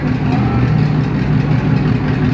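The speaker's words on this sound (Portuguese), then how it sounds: "Aí, Babi, acelera essa porra aí." Loud, close 1967 Chevrolet Malibu V8 roaring steadily at high revs, a dense rumbling exhaust note filling the short clip with no voices.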